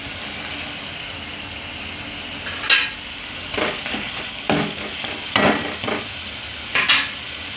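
Tengra fish frying in hot oil in a pan, a steady sizzle broken by several louder crackling bursts as the pieces go in.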